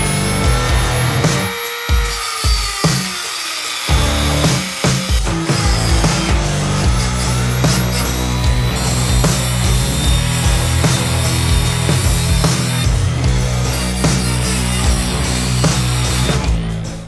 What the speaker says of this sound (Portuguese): Tentando fazer com a Dremel aqui, acho que é mais a grande, a esmilhadeira tá tendo dificuldade de entrar aqui.